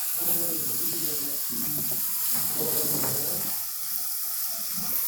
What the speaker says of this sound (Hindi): यहाँ पे प्याज को आपने ज़्यादा भूनना नहीं है, प्याज को हमने यहाँ पे सिर्फ सॉफ्ट करना है